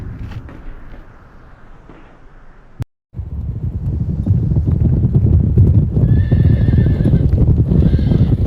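Horses of the WWI Australian Light Horse, Whaler horses at Beersheba, with loud clip-clopping hooves and whinnying amid wind noise, a brief silent break, then denser hoofbeats and neighs building close by.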